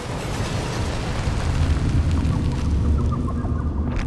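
Explosion in a Poppy Playtime horror story, heard as a dense, low rumbling boom that rolls on as a sustained roar and thins out near the end, with no voices.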